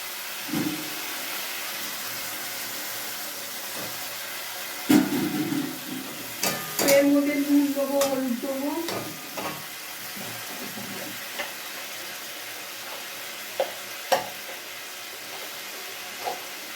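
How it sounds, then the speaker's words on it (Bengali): Water hits potatoes frying in goat fat, setting off a steady sizzling hiss with a louder, bubbling surge midway, then easing back to a constant fry with occasional stirring clicks. "এর মধ্যে একটু জল দেবো"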